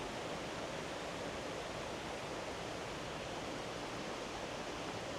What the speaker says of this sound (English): It's so hard to hear anything because the water is so loud